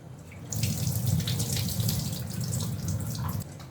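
Flattened rice (poha) rinsed under a running kitchen tap, a steady close splash of water into a vessel for about three seconds before easing off, with no talking.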